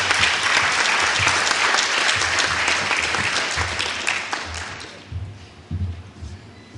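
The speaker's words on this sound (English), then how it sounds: "let's give him a warm round of applause" Audience applause for a speaker at an evening lecture hall event, a dense sustained clapping that fades out over the last couple of seconds into scattered claps.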